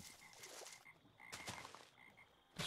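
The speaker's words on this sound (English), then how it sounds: "There's frogs here." Frogs croaking in the Minecraft video game, a few soft repeated croaks spaced through a quiet in-game backdrop, with a sharper burst of game noise at the end and no talk.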